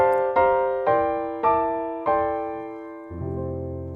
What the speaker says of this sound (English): I'm going to harmonize or treat that melody using chordal type voicings